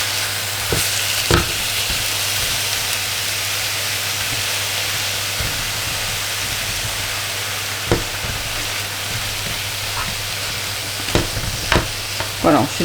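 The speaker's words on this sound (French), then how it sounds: "je vais vraiment essayer de réduire la viande hachée en tout petits morceaux. Et puis la mélanger aux légumes" Minced meat and vegetables fry in a pan for a bolognaise-style sauce, sizzling steadily and loudly while a spoon scrapes and stirs in scattered clacks, with no talk.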